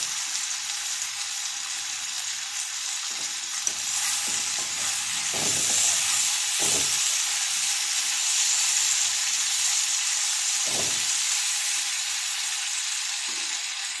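Poppy seed paste frying with drumstick stems and potato in a pan, a constant loud sizzle with occasional scraping stirs of a spoon against the pan and no voices.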